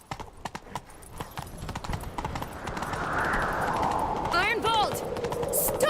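Rapid galloping hooves pound continuously in The Witcher 3: Wild Hunt, the drumming beats growing denser and louder as the ride picks up, with a faint rushing wind and brief chirpy tones late on.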